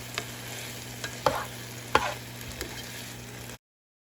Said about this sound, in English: The pork is cooking.